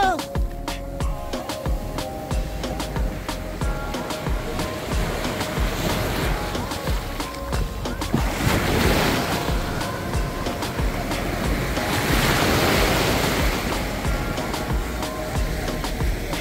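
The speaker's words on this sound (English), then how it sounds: "And here comes the Miami Beach. This is actually the north beach of the Miami Beach." Surf washes onto the north end of Miami Beach in Florida, a continuous roar of breaking waves with two louder swells rolling in, mixed with some wind rumble and no talking.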